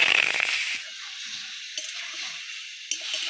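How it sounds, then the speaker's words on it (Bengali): Meat pieces hit a hot oiled wok for a brown meat curry, a loud burst of sizzling frying that quickly settles into a softer hiss, with occasional light scrapes and knocks from stirring. "তো এর মধ্যে আমি মাংসগুলো সব ঢেলে দেবো।"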